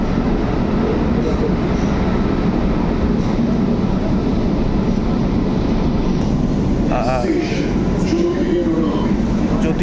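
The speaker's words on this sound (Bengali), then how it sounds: "ওদিক থেকে লাইন থেকে দেখতে পাচ্ছ তোমরা একটা মেট্রো পাস হচ্ছে" A metro train roars past close by, a loud continuous rumble of wheels on rails with brief high squeals toward the end.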